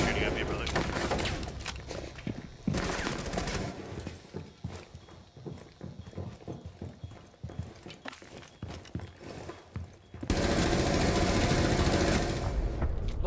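Rainbow Six Siege firefight with bursts of gunshots and clattering action sounds, dense and loud at the start and end, thinning in the middle, with voices talking over parts of it.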